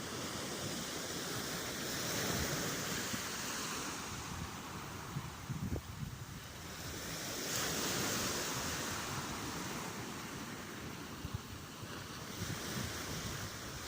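Sea waves washing onto the beach at North Denes, Great Yarmouth, with an incoming tide: steady broad surf roar swelling and easing in slow surges, mixed with wind rumble on the microphone, no voices.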